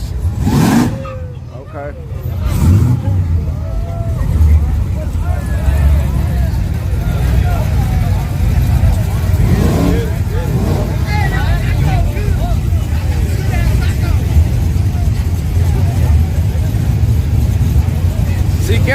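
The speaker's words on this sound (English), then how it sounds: "here come that LSA truck on nitrous" An LSA-powered truck running on nitrous at Yello Belly Dragstrip in Texas gives a loud, sustained engine roar, with crowd chatter and nearby talking over it throughout.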